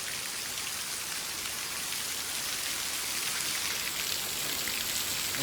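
The first summer rain falls heavily over farmland in Punjab during the maize harvest, making a dense, even hiss of drops on surfaces that holds steady and fairly loud throughout, with no talking.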